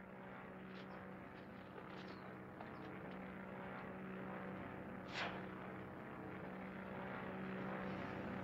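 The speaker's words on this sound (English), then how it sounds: "the plane." A steady, low propeller drone hums throughout, with a brief swelling whoosh near the middle, like a small plane passing at moderate distance.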